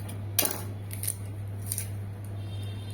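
Vegetable stalks are cut by hand while standing: a few sharp snips and crisp cuts at irregular intervals, close and fairly quiet over a steady low electrical hum, with no talk.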